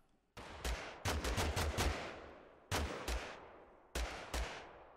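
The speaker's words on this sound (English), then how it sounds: "I guess someone's shooting from the right." Gunfire in the Totally Accurate Battlegrounds game: sharp bursts of rapid shots come in three clusters, loud and close, each shot ringing out with a short decaying tail.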